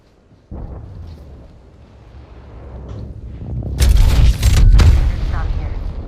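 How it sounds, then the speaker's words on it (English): A gravity cannon fires in a space video game, a deep rumbling boom that swells into a loud, sustained blast after a quieter low drone. "Let's use the gravity cannon there"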